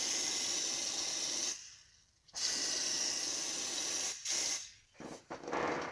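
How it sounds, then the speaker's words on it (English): Layering spray hissing from an aerosol can onto model railway scenery, two long sustained squirts separated by a pause, then a few short bursts, close and fairly loud. "I'm going to give it a nice squirt of layering spray"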